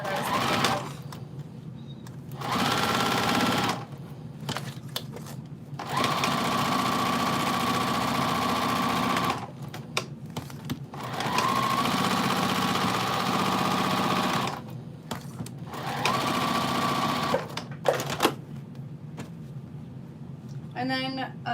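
A sewing machine stitches through layers of zipper pouches in long continuous runs of steady whirring, stopping briefly between passes, with a person talking in the pauses.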